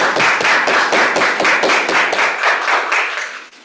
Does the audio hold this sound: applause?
yes